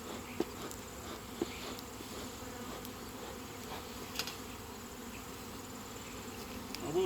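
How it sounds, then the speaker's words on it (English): Honey bees buzz steadily around the edge of a hive box during an autumn inspection, a dense, continuous drone from many insects close by, with a few faint knocks. "There's a lot of bees hanging around the edge of the box"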